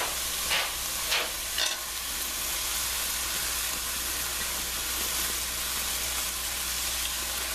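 Chicken and peppers frying in a pan on lowered heat, giving a loud, steady sizzle and hiss throughout, with a few brief clattering stirs near the start.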